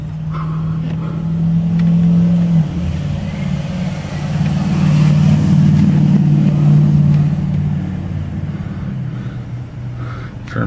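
A 2004 Kia Sorento with about 107,000 miles idles in gear with a steady low engine drone, rising slightly midway as the rpm lifts, loud and close from inside the vehicle.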